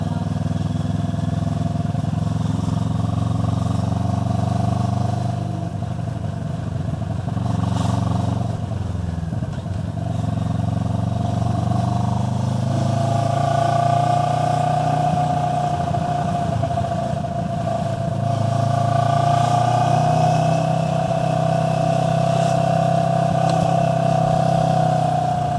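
A big motorcycle cruising on an open highway: a continuous loud engine drone with steady wind rush, the pitch rising and falling gently with throttle changes as the ride goes on, with no talk.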